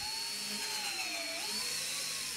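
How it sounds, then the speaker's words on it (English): Power driver sinking a screw through drywall, a steady high whine with slight pitch shifts, close and continuous for the whole moment. "We screwed a screw through the drywall."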